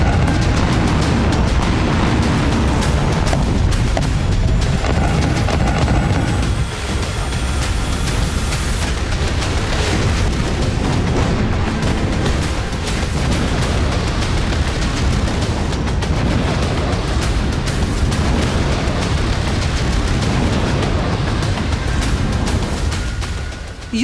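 Explosions from a Russian missile bombardment in Ukraine, a dense, sustained wall of loud booming blasts and gunfire-like cracks rolling on continuously without pause.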